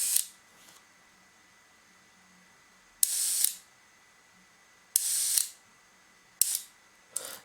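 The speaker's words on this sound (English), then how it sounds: "So if I wind it and then I press the shutter button and look what happened." A Leica MOOLY motor drive for Leica IIIa and IIIb cameras, with a broken spring, whirs in short mechanical bursts after shutter release, with four brief buzzy runs separated by quiet pauses.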